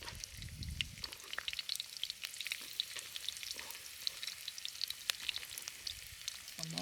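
Ginger and onion sizzle steadily in a stir-fry pan for a Chinese tofu dish, a close crackling hiss with scattered pops and light scraping throughout, no voices.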